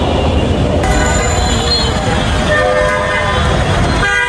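A metro train rumbles through Secretariat metro station in Dhaka with squealing wheels and a high horn tone sustained over the rolling noise.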